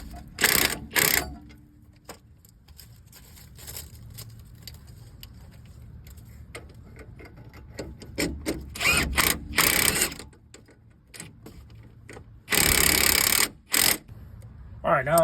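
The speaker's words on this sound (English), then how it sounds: "now I got those strut bolts tightened up" Ratchet tightening strut bolts during front axle CV shaft replacement on a 2013 GMC Yukon: close, fast ratcheting clicks in short bursts, a long loud run near the end, with someone talking in places.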